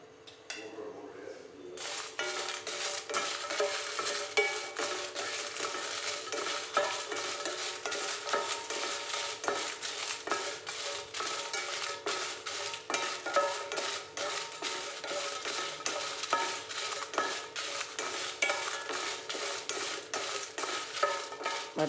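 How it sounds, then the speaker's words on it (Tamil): Dry red chillies are roasted in a pan for homemade idli podi, with a continuous dry rattling scrape of stirring and faint sizzle that continues steadily after a brief quiet start. "வத்தலை கடைசியாக தான் வறுக்கிறோம்."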